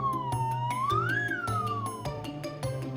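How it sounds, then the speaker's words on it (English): A sound effect for a badly played clarinet in a SpongeBob read-aloud: a loud wavering tone that slides up and back down for three seconds over a rhythmic backing with repeated percussive hits. "That noise was Squidward's clarinet playing."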